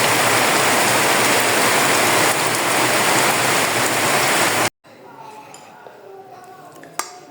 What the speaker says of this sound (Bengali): বৃষ্টি শুরু হয়েছে তো হয়েছে, ছাড়াছাড়ি নাই।